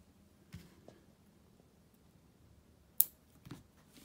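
Scissors snip the tag end of line while tying a salmon trolling fly, two or three sharp close cuts with quiet handling noise between them and no talk.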